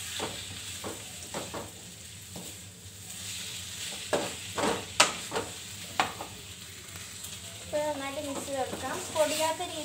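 Homemade noodles made from maida are stirred gently in a pan, with a faint sizzle under scattered scraping and knocking strokes, a few sharper clinks, and brief utensil rattles near the end.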